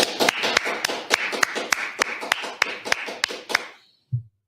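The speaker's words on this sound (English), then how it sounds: "All right, let's clap it up." A small group clapping after being urged to clap it up during a brotherhood class, a short burst of sharp, fairly steady claps that taper off, followed by a single low thump.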